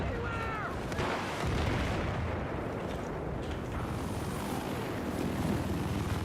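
Mortar fire in a Battlefield video game, heavy booming blasts and rumbling explosions over a continuous roar of aircraft and helicopter noise, loud and dense throughout without talk.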